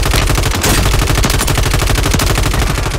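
Rapid, sustained automatic gunfire from a video game, loud and continuous, with dense overlapping shots in a fast rhythm throughout and no talking.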